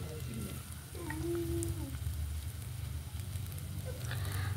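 Cabbage fritters frying in oil over a clay stove, a steady close sizzle and crackle running throughout, with a brief voice-like tone rising over it early on.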